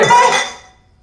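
Glasses clink together in a celebratory toast at a shared meal, a single bright, loud ringing chime that decays quickly into silence, with no voices.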